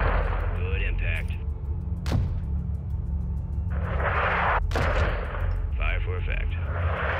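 Artillery strike and gunfire in the Modern Warfare II campaign: sharp, heavy shots ring out at intervals over a steady rumbling battle backdrop, with radio-style voices talking throughout.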